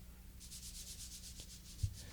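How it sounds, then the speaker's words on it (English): Light hand sanding across the face of a wood veneer for marquetry: a steady series of about ten soft, rhythmic rasping strokes, close and even, with no talking. "light sanding is done on the face"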